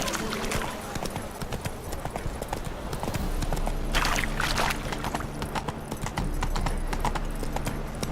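Roach, a horse in The Witcher 3, gallops with a continuous rapid clatter of hoofbeats, loud and close, under faint background voices.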